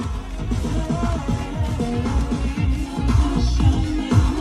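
A Bose ten-speaker, 800-watt sound system in a Mazda CX-5 plays music inside the car, with a full rhythmic bass line and melody that stay loud and steady throughout.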